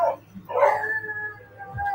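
A dog barks somewhere in the dark, giving two or three short yelping barks with a whimpering, howl-like tone, fairly faint and distant over a low background hum.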